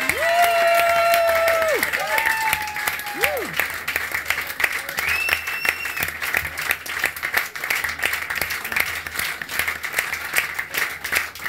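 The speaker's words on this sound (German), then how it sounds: "So einen fantastischen langen Applaus." Long, sustained applause from a crowd at a German celebrity talk show in Dinslaken, many hands clapping steadily for over ten seconds, with a few whoops and cheers at the start.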